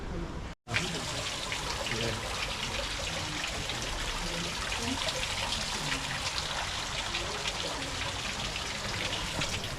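Fountain water trickling and splashing at Villa d'Este, a dense, steady wash of running water heard up close that continues evenly after a brief cut near the start.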